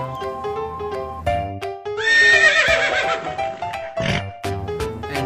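A horse whinnies loudly and up close in a long quavering neigh, set among other short animal calls and snorts over a backing track.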